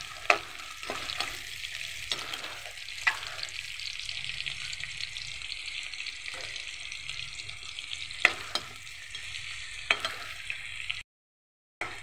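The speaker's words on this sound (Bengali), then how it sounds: "ফ্রাই প্যানে তেলটা গরম হয়ে গেছে, আমি পাঁচফোড়নটা দিয়ে দিচ্ছি। সেই সাথে এখানে আমি কাঁচামরিচ এবং পেঁয়াজটাও দিয়ে দিলাম। এখন এটাকে আমি একটু ভেজে নেব।" Panch phoron, green chili and onion sizzle steadily in hot oil in a frying pan, with repeated stirring scrapes and occasional sharp pops, close and continuous, cutting off abruptly near the end.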